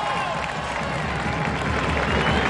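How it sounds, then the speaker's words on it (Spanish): A large audience applauds and cheers in a dense, continuous roar of clapping and crowd noise, loud and unbroken throughout. "Un aplauso."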